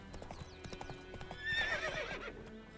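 Roach, Geralt's horse in The Witcher, trots with a steady rhythmic clip-clop of hooves on a path, joined midway by a clear whinny, with faint game ambience behind.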